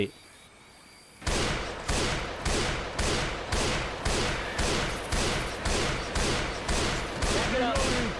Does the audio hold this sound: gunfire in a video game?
yes